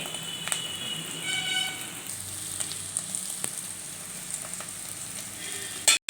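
Bitter gourd pieces fry in a pan with a quiet, steady sizzle and a few faint spatula clicks, ending in a brief loud clatter; no one talks.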